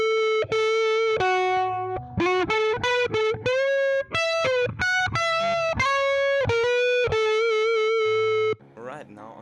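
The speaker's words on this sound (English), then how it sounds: "I used the neck humbucker in my SG, and here's how it sounds." Gibson SG electric guitar on the neck humbucker pickup, playing a clean melodic line of distinct sustained notes with light modulation effects, loud and close, ending with a short burst of a different texture.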